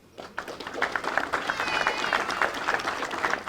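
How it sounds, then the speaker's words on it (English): A crowd at a Bermuda police passing out parade applauds steadily, dense outdoor clapping holding at an even level throughout, with no voices standing out above it. "A round of applause, please."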